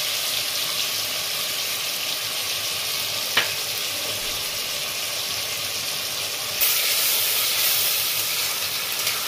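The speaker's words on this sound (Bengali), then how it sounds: "আমি সব মশলাগুলো দিয়েছি। এবার একটু কষিয়ে নিচ্ছি, আস্তে আস্তে হতে থাক।" Ground cumin, coriander, ginger paste and chili sauté in a pan for a curry, a steady close hiss and sizzle throughout with a brief clink and a rise in hiss near the end.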